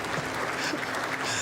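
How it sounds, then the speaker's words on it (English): Conference audience at a plenary session on the profession's future applauds, a brief dense burst of many hands clapping, steady and fairly loud. "May we give her a round of applause, please"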